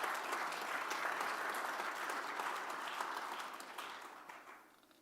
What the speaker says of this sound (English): let's have a round of applause for the new church council members.